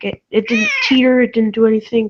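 A pet cat gives one loud, drawn-out meow close by, wedged into a man's speech and partly overlapping it.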